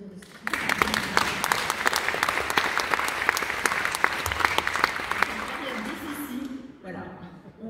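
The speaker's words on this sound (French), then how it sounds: "On va les applaudir aussi." A crowd applauds steadily for several seconds at a Sodexo general meeting, dense clapping that swells and then tapers off at the end.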